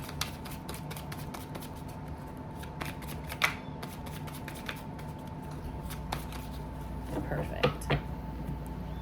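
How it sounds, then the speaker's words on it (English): Tarot cards are shuffled by hand in quick repeated riffles and soft flicks, close but fairly quiet over a low background hum. "I'm going to do my version of a smaller Celtic, and I'm going to shuffle."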